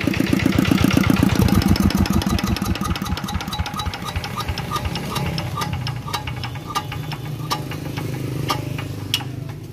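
A Yanmar YC7 tiller engine idles with a loud, rapid single-cylinder knock, then the chugging slows and breaks into fading irregular thumps and clicks as it is shut off.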